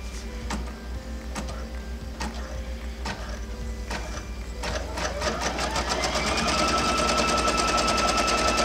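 An embroidery machine stitching a tack-down stitch for a cat quilt block, a fast steady mechanical chatter of needle strikes close by, with the whir getting louder and busier about halfway through.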